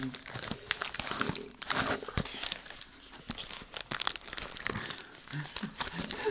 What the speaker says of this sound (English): Get the tape off of these things.